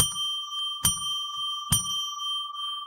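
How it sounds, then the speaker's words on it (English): A small, bright bell is struck three times at even intervals, each strike ringing out clearly with a sustained, sweet tone that lingers between hits. "I'll ring a bell 3 times to declare sacred space."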